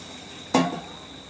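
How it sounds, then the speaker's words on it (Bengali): Hot water is poured into a pot of meat curry in a home kitchen, giving one brief, loud hissing splash that quickly fades back to a quiet background. "গরম জলটা দিয়ে দিলাম"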